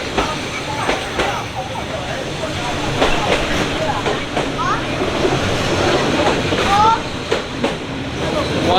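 A train passes extremely close along a narrow street in Hanoi, with a steady broadband rumble and rail clatter throughout, a few high squeals, and people talking excitedly nearby.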